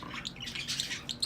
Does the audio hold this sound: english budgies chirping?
yes